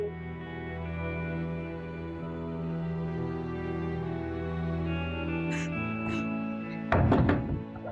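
Knocking on a door in a drama scene: a quick burst of a few close, hard knocks near the end, over a steady background music bed.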